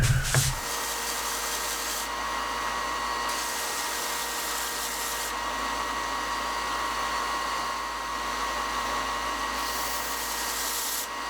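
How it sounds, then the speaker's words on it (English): A belt sander runs steadily and loudly throughout while a small wooden-cased thumb drive is ground against it, producing a continuous whirring roar with a faint high whine and slight shifts in tone as the workpiece is pressed. "Let's go to the belt sander."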